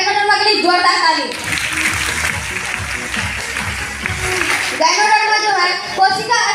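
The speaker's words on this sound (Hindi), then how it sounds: "चलिए गैनोडर्मा के लिए जोरदार ताली" Applause from a seated audience at a DXN Ganoderma training talk, a burst of dense clapping lasting several seconds, framed by a man's amplified speech before and after.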